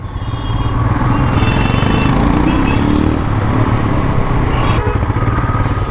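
A Royal Enfield Himalayan motorcycle rides along an airfield runway among army posts, its engine droning steadily and loudly, with heavy low rumble and wind noise throughout.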